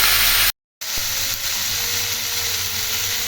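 Mixed vegetables with greens frying in a pan for a Bengali-style bathua leaf dish, giving a steady broadband sizzle that runs on after a brief dropout.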